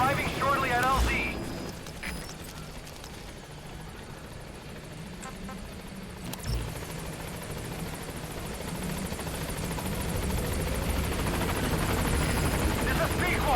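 A support helicopter in Metal Gear Solid V approaches a landing zone, its rotor thrum rising from a low rumble to a louder, closer wash, with game voices talking over the start.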